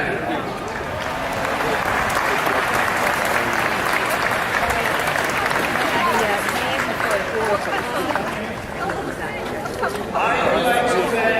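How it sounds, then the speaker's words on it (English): A commencement crowd breaks into sustained applause and cheering, a dense wash of clapping with scattered shouts and chatter that holds steady for about eleven seconds. "Let's give a warm Trojan cheer for Professor Callahan."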